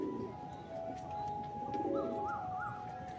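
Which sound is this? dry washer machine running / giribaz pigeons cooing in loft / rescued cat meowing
giribaz pigeons cooing in loft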